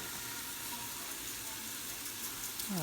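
Shrimp shells with a little salt sweat down in a stockpot for a seafood stock, giving a faint, steady low sizzle throughout.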